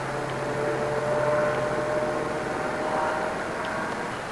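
An airplane drones steadily overhead in the night sky, a constant, even rumble with a faint whine that holds at the same level throughout, with no voices.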